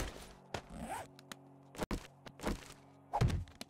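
Storage containers being set down in 7 Days to Die, a series of separate hollow thunks and short scrapes with brief rustling between them, fairly close and in the clear.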